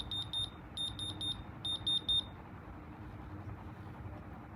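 A diamond tester checks moissanite stones set in an iced-out Audemars Piguet Royal Oak Offshore-style watch with black strap, giving bursts of rapid high electronic beeps in three quick clusters over a quiet background.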